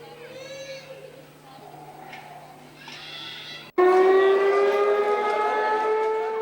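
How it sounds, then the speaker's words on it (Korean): A loud siren marking the end of the daily fast with a long wailing tone starts abruptly after a few seconds of quieter background sounds and holds steady and strong. "오후 5시경 사이렌 소리와 함께 하루의 첫 식사를 한다"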